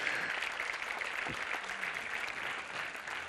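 Audience applause for two authors at a book event on the Gulf of Gaeta, a steady, dense clapping texture held at an even level for the whole moment without any voices.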